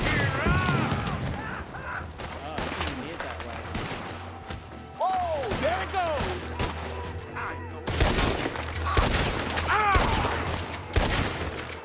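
Repeated gunfire in the video game Red Dead Redemption 2, a dense continuous fusillade of shots and bursts across the clip, with shouted voices and in-game music over it.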